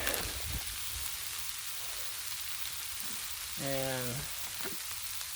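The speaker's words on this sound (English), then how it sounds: "add some kielbasa that I already sliced up." Pre-sliced kielbasa sizzles on a Blackstone griddle in a steady, hissing fry, while someone briefly speaks over it partway through.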